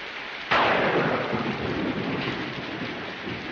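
Heavy rain pours steadily during a thunderstorm, and a sudden loud thunderclap breaks in and rumbles away under the continuous hiss of the downpour.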